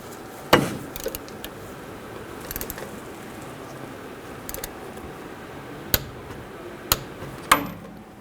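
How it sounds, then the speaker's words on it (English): A wrench tightens a rear brake caliper bolt on a 2005-10 Mercury Mountaineer: faint scattered ratchet clicks and a few sharper metallic snaps at intervals over a low background hiss. "torque this bolt to 26 foot-pounds"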